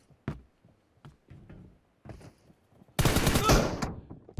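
Sniper rifle fire in the mobile battle royale game PUBG Mobile: a few faint, distant cracks, then a loud, dense burst of gunfire near the end.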